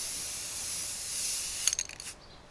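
Spray can paint misting onto a model rocket outdoors, a steady close hiss that sputters into a few short bursts before cutting off; no speech.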